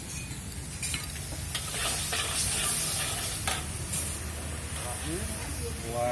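Broth poured into Javanese noodles frying in a wok, a loud, continuous close sizzle and hiss with stirring scrapes, steady throughout.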